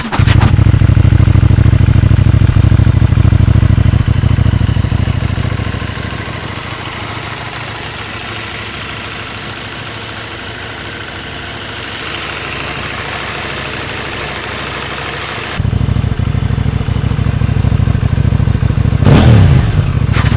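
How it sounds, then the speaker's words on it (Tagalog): A 2020 KTM Duke 790 parallel-twin, liquid-cooled motorcycle engine fitted with an Akrapovic exhaust idles loudly and steadily, settling to a lower rumble midway before a sharp blip of revs near the end. "pakinggan muna natin ang tunog ng bike na ito"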